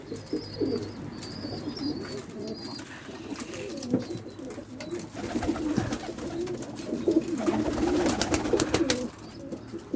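Pigeons coo repeatedly in a coop, low throaty rolling calls layered over one another, with a few higher chirps and soft rustling close by.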